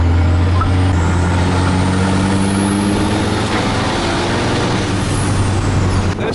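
A pickup truck's engine idles loud and close with a steady low rumble and constant hum, running unbroken throughout with no voices.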